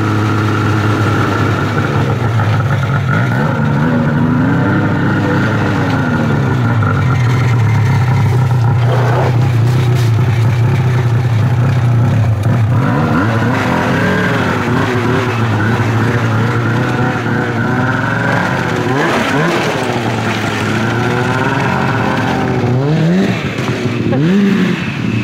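A 2003 Ski-Doo Blair Morgan snowmobile engine running on a street, a steady two-stroke drone that revs up and down repeatedly with rising and falling pitch, loud and close throughout.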